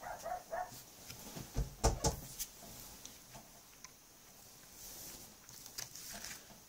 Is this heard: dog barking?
yes